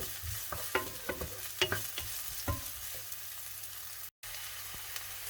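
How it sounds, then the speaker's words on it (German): Chopped onion frying in a few spoonfuls of oil in a pan over medium heat, with a steady sizzle and several sharp stirring clinks and scrapes of a utensil against the pan, close and clear, with a brief dropout near the end. "in eine Pfanne etwa 2 bis 3 Esslöffel Öl geben, dann ein gehackte Zwiebel dazugeben, kurz anbraten"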